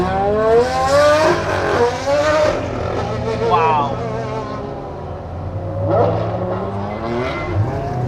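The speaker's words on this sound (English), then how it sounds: "Race cars first, road hypercars next." Race cars and road hypercars pulling away from a track, engines revving and rising in pitch as they pass nearby one after another, with a voice briefly speaking over the engine noise.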